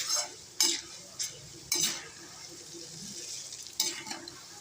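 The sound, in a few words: chana dal and urad dal frying in oil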